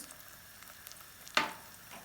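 Tomato paste and coarse bulgur sautéed in oil, a faint low sizzle with one sharp stirring scrape near the end, quiet and without talk.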